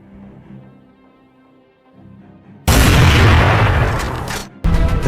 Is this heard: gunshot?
yes